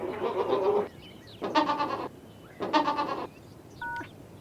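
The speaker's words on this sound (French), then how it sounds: "c'est le cri qu'il pousse dans une situation positive, comme par exemple quand on le remet avec sa maman" A young goat kid bleats three times in a content, positive state, each call about half a second to a second long with a brief pause between, followed by a faint short tone near the end.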